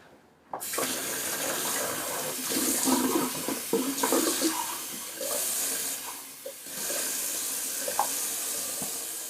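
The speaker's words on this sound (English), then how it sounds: "I'm just going to drain my sink because it's looking pretty grisly in there." A bathroom sink draining with the tap running, heard as a continuous close splashing and gurgling rush of water that starts abruptly and continues steadily for several seconds with faint clinks.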